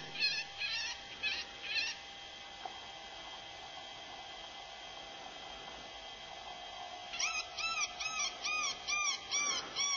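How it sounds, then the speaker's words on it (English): Spitfire electronic game caller playing an animal call at a distance, repeated high, wavering, cat-like cries in short bursts at the start and end, faint and thin against a quiet outdoor hiss. "the Spitfire, the game caller, can be operational while zipped up into the bag"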